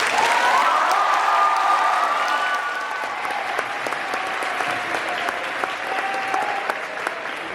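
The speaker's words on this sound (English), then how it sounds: "Ladies and gentlemen, another round of applause for" Sustained audience applause at a campus event, loud and dense at first and then easing slightly, steady clapping from a large crowd with a few sharper individual claps standing out.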